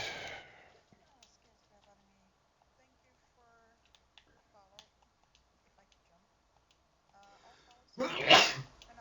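One sharp, loud sneeze bursts out near the end after a long stretch of near silence broken by faint small clicks and a brief voice at the start.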